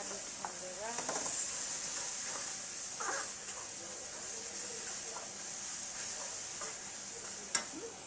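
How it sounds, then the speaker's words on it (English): Butter sizzling in a hot pan while ginger garlic fried rice is cooked, a steady bright hiss throughout with occasional stirring scrapes and a faint voice in the background. "Then I'm going to throw in a piece of butter."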